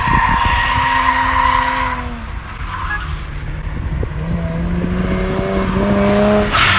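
A JDM Toyota drifting on a track, with loud sustained tire squeal and skidding over a revving engine, close, one long slide easing off, then building again.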